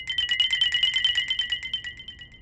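A mobile phone rings with an incoming call, a rapid pulsing electronic ringtone of evenly spaced bright trills repeating steadily and clearly, with no voices over it.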